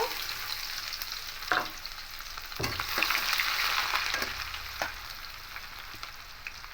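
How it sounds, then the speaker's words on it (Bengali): Chopped onion hitting hot oil in a pan where dried red chillies are already frying for a bottle gourd and shrimp curry, a steady close sizzle with a couple of sharp crackling bursts as the pieces land and are stirred. "এবার পেঁয়াজটা দিয়ে দেব"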